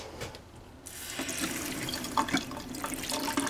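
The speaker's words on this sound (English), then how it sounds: "then we'll go ahead and relieve the pressure off the system" Water hisses and sprays steadily as pressure is relieved from a Dutchmen RV's plumbing system during winterizing, a continuous rushing flow with no voices.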